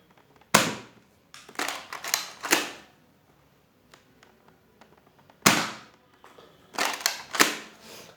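A Nerf Fortnite SP-L blaster fires several loud, sharp snapping shots close up, some single and some in quick clusters, separated by near-silent pauses.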